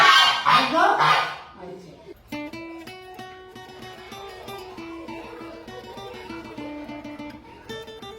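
Farm geese honking: a burst of loud, harsh, overlapping honks for the first two seconds, then the calls stop and only a quieter, steady tonal background remains.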